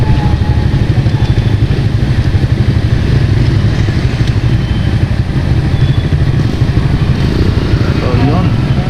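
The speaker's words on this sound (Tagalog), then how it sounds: "Dami ng motor." Several motorcycles near Kaybiang Tunnel rumble continuously at close range, a loud, steady, pulsing engine drone that stays dense throughout, with faint talk mixed in.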